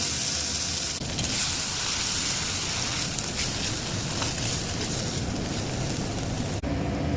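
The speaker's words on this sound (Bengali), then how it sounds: "তেল দিয়ে দিলাম ফোড়ন দিলাম গরম মশলা তেজপাতা আদা লঙ্কা বাটা জিরে বাটা ধনে বাটা" Whole spices, bay leaf, and ginger-chilli, cumin and coriander pastes sizzle in hot oil in a heated kadai while cooking soybean with kabuli chickpeas, a steady loud hiss that runs unbroken, close, with no talk.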